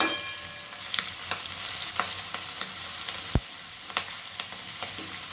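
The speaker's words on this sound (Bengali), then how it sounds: "দিয়ে দিলাম রসুনের কোয়া আর দেব দুটো চেরা কাঁচা লঙ্কা ভালো করে একটু নাড়াচাড়া করে নেব" Crushed garlic cloves and slit green chillies frying in a pan on a medium flame, a continuous close sizzle broken by occasional scraping stir strokes and one sharp tap.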